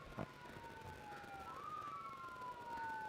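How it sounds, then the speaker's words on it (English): A faint emergency siren wails in the distance beside a college football game, its tone sliding slowly up and down. Low crowd and traffic noise sits underneath, with a short thump near the start. "you can hear a siren in the distance"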